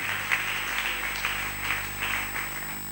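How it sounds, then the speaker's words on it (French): A church congregation applauds and cheers for Jesus, a continuous wash of clapping, steady and moderately distant over a faint electronic hum. "Acclame très fort pour Jésus"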